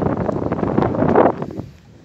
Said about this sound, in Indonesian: Tengah angin lagi.